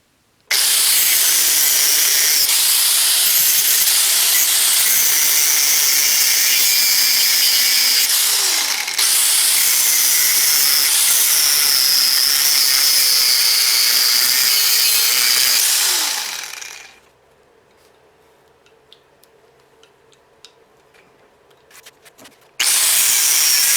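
A power tool cuts apart metal engine torque mounts for a rebuilt Honda CR-V, a loud steady grinding whine running continuously for about sixteen seconds, briefly dipping once, then stopping into near silence before a short final burst.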